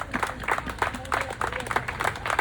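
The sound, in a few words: audience applause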